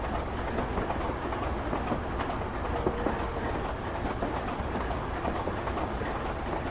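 Class 25 diesel locomotive in Train Simulator Classic on the Buchan line, rolling steadily on rails with a continuous broadband rumble, faint engine drone and soft rhythmic wheel clatter throughout, with no talk.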